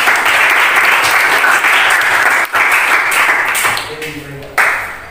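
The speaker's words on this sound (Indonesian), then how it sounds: "Kasih dulu tepuk tangan." Students in a classroom give a group of presenters a sustained round of applause, dense steady clapping that tapers off at the end, with a brief dip midway.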